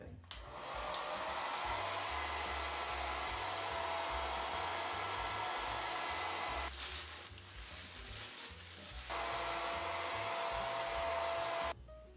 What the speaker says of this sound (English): Now I'll take a hair dryer so to make it hot here just to even out everything.